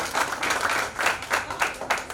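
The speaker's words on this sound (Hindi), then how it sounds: "थोड़ी सी तालियां बजा दीजिए" Audience applause at a kavi sammelan poetry recital in Kapoorthala, Lucknow, a crowd clapping in loose rhythmic bursts that swell and fade several times, moderately distant and soft.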